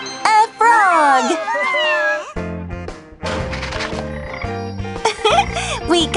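A cartoon frog croaks in a series of bright, exaggerated calls, loud and close, with playful music and sound effects behind it.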